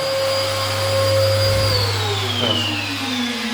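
A vacuum cleaner drones loudly and continuously while a room is cleaned during renovation work, its motor pitch sliding slightly as it moves.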